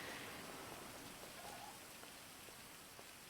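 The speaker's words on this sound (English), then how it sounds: "Get out of this rain." Steady rain falls in a video game world, a dense even hiss of drops spattering on surfaces that holds at a constant level throughout with no voices.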